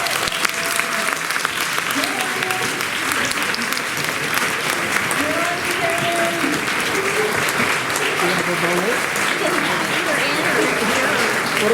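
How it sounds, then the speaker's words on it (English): Parents at a school orientation rise for a standing ovation, loud sustained clapping from a crowd filling the room, with scattered voices and cheers mixed in throughout. "we're going to give you a standing ovation and clap for you."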